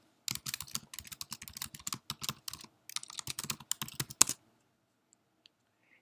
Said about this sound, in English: For this example, I will type Continuing Resources.